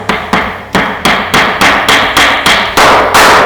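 Steady hammer taps drive a plastic wall plug flush into a drilled hole in a bedroom wall, about a dozen sharp, loud, close blows in an even rhythm, each with a brief ringing decay, no talking.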